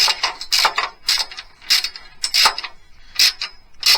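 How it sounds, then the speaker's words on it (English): A hand ratchet with a socket tightens a tie-down rail on a 2019 Ram truck bed, giving repeated close bursts of sharp clicking with short pauses between strokes. "use a finger to hold the socket so it ratchets for me"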